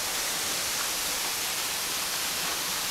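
A waterfall heard from behind the falls inside a partial cave, producing a dense, steady roar of rushing water that fills the space evenly and continuously, loud and close with no voices.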